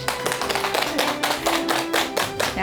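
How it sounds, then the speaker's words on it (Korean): An audience claps as a guest author is welcomed onto the stage of a Korean lecture talk show, a steady burst of many hands over background music, with no voices on top. "큰 박수 부탁드립니다."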